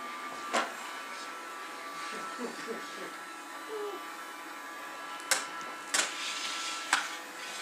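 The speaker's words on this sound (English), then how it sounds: "Hey, go vacuum." A vacuum cleaner runs indoors while it works its way into the corners, giving a steady, fairly quiet hum with a few sharp clicks and bumps. A person talks over it.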